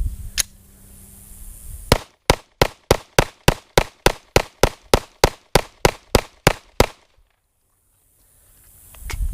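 A Glock Gen 5 pistol fed from a Gen 3 magazine fires about seventeen sharp, loud shots in a quick, even cadence. Silence follows the last report, with no talking.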